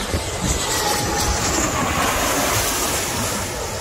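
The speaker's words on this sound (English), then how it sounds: "look at that plane right here" A low-flying airliner roars steadily overhead at Maho Beach, St. Maarten, its loud engine noise blending with crashing surf in a continuous wash of sound with no talking.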